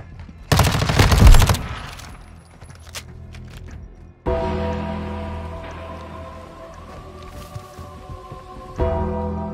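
Rapid bursts of gunfire in the shooter Modern Warfare 2, a loud dense volley up front followed by scattered single shots and then a sustained roar of firing that continues, with a fresh burst near the end.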